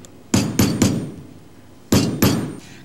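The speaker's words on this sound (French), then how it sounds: "Imaginez-vous donc avec son marteau puis son ciseau à froid, mon ami Charlie transformait les numéros de" A hammer drives a cold chisel into metal in sharp, ringing blows, three quick strikes, a pause, then two more, loud and close with no talk.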